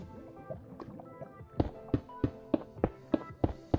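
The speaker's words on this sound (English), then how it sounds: "Oh, I hear lava." Lava bubbling in the Minecraft video game, a series of soft popping, gurgling blips that grow into regular louder plops roughly every third of a second.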